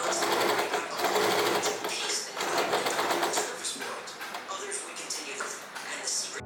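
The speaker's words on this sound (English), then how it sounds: "After stitching everything down, I tried it on." Sewing machine stitching a Diwali dress, running steadily and loudly throughout with a close, continuous rapid needle chatter and no pauses.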